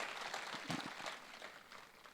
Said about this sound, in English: So another clap for these kids.